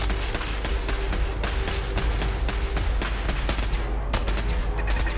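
A gun turret firing in Fallout 4, a loud sustained burst of rapid automatic shots with sharp cracks toward the end, close and continuous, with no voices.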